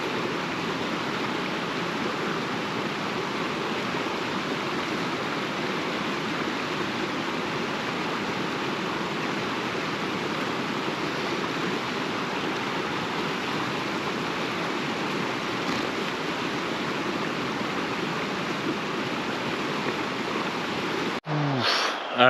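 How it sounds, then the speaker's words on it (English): A river at a Glacier campsite rushes steadily and evenly for a long stretch, with a broad constant hiss of flowing water nearby and a brief bump at the very end. "Back down to the river to cool off a little bit and fill up."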